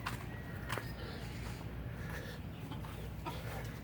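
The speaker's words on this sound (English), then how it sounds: "There's a chicken." A chicken clucks on a nature trail on Coco Cay island in the Bahamas. A few soft, brief clucks sound faintly at a distance against steady outdoor background noise.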